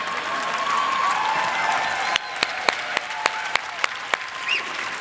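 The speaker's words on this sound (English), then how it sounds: "fine, clap, clap." An audience in a talk or seminar hall claps, first as a soft, scattered patter, then a handful of sharp, distinct claps ring out near the microphone at irregular intervals.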